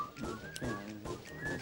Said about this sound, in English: This is an impressive whistling.